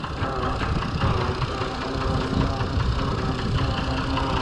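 A Fordson Major tractor fitted with a Perkins straight-six engine taken from a combine harvester idles steadily and close by, a low, even rumble with a faint knocking pulse that runs through the whole stretch.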